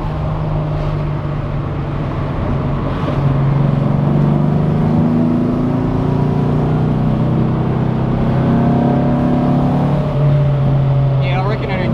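A Porsche 356 drives at speed with a steady engine drone and road rumble close by, while people talk over it.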